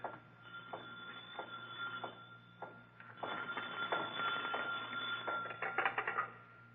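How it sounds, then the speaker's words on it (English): Old-style telephone bell ringing on a night watchman's desk in a museum, a radio drama sound effect; repeated rings in a steady rhythm, growing louder, heard through narrow, dated broadcast audio. "Suddenly, a phone rings on the desk of the night watchman, rings and shatters the silence of this modern tomb of ancient art."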